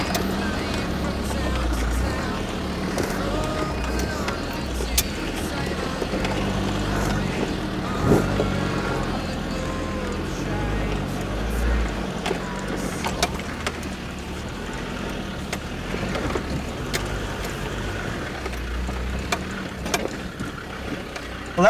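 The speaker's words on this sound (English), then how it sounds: "the car's just idling up this hill" A remapped Land Rover TD5 diesel engine crawls uphill at idle on a rough track, a steady low rumble heard from inside the vehicle with knocks and rattles over bumps and faint wind.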